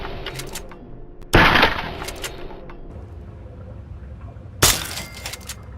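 Two sharp, loud cracks from a BB gun fired at a radroach in Fallout 3, a few seconds apart over a low background hum.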